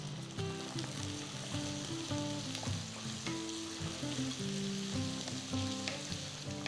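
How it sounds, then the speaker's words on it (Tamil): Small onions and fresh garlic cloves sauté in hot oil over a high flame for a spicy tamarind curry. A continuous crackling sizzle is heard with occasional stirring scrapes and no talking. "நீங்கள் ஃப்ளேம் ஹைலியே வச்சு இந்த மாதிரி நீங்கள் வதக்கிக்கலாம்"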